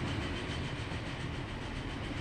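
A railway train runs through a village landscape in the video game Transport Fever 2, a steady, moderately faint rumble and rolling hum without voices.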